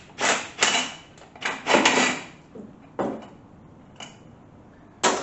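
A socket wrench on an extension turning a bolt during an 850RE transmission teardown: sharp, close ratcheting clicks in short irregular bursts, about eight distinct snaps separated by brief pauses.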